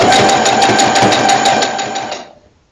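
A sewing machine stitches through a hoodie with a steady, fast mechanical chatter, running loud and continuous for about two seconds before winding down and stopping.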